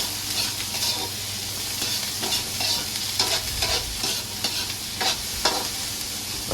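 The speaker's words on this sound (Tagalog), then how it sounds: "Halu-haluin lang natin ito hanggang sa mag golden brown siya." Onions sautéing in a pan for tofu sisig, a loud continuous sizzle with rhythmic scraping and stirring strokes of a utensil against the pan, close up and alone.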